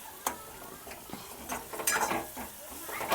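Chili peppers are stirred in a pan while cooking for sabudana khichdi, with a spoon scraping and clinking against the metal in irregular strokes over a soft, steady sizzle of frying.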